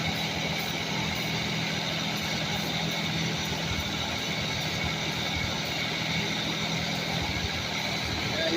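Toyota 4Runner with a swapped 3.4 engine idling with a small intake leak, a steady close engine hum with a faint continuous high hiss running throughout.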